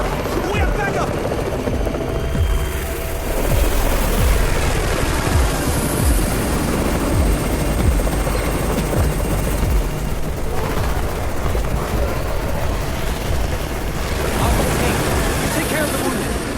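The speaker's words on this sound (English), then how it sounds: "It's the Raven's chopper! We have backup!" A helicopter arriving in the video game Undawn, a continuous loud rotor drone with scattered gunfire, and people talking over it throughout.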